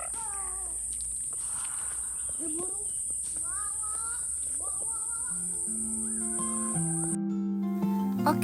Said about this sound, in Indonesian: Suara serangga. Jangkrik.